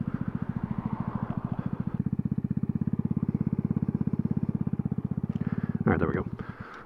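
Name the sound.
motorcycle engine pulling over and idling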